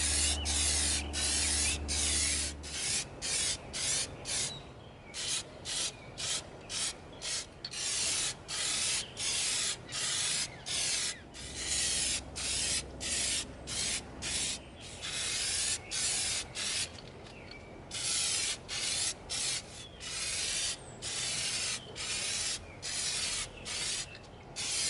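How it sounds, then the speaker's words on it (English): Aerosol can of Plasti Dip rubber coating sprayed onto an EVA foam prop flamethrower: repeated close hissing bursts of one to three seconds each, separated by short pauses, steady and loud throughout with no talk. "We're going to coat our flamethrower with our Plastidip"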